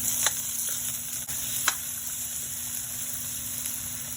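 Chopped tomato hitting hot oil in a pan while cooking adobong pusit: a continuous close sizzle with occasional sharp pops and spatters, steady and fairly loud, with no voices.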